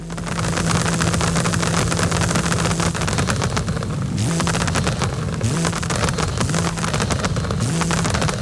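Loud, continuous engine roar of a 2019 Porsche 935 in Forza Horizon 5, with rapid crackling exhaust pops and bangs, the revving dipping and surging several times.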